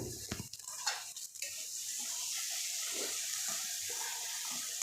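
Onions sautéing in a pan for vegetable fried rice, with a faint, soft sizzle under scraping stir strokes that are busiest in the first couple of seconds.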